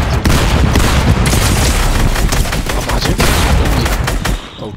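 Gunshots in Fortnite during a 2v2 box fight tournament match: loud, continuous rapid gunfire with booming impacts, which fades slightly at the very end.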